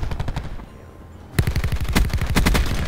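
Rapid automatic gunfire crackles in loud, dense bursts in the Call of Duty Black Ops 4 video game, with a brief lull before a sharper, sustained volley of close shots.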